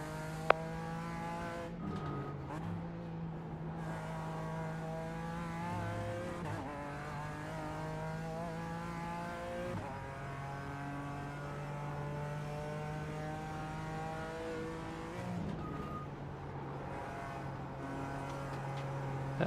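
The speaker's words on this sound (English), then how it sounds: "A Porsche inbound." Porsche race car on a circuit during an NEC endurance race, engine droning steadily with harmonic tones shifting as it passes and changes gear, loud and continuous, with brief tire noise between shifts.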